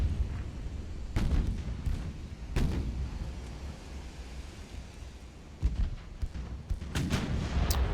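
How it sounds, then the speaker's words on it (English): Heavy 12-inch naval guns firing in the warship game Ultimate Admiral: Dreadnoughts, several deep booms spaced a second or more apart over a low rumbling battle ambience, no voices. "12-inch firing, no effect."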